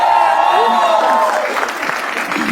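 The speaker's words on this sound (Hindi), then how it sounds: "तो शुरू करते हैं तालियों के साथ।" Audience applause breaks out at a comedy show, dense clapping rising over a fading sustained tone, with a voice speaking over the start.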